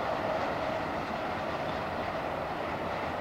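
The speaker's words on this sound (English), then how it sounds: "That train originates in Port Newark, New Jersey. Heads west to Chicago, Illinois at Bedford Park." A CSX freight train rolls past with a steady, moderately loud rumbling and faint rhythmic wheel clatter, continuous throughout with no voices.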